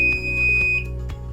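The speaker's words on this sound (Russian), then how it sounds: "Как видим, включилась сигнализация." An alarm buzzer on the control panel of an automated chicken coop gives one steady, piercing electronic tone, close and clear over a low electrical hum.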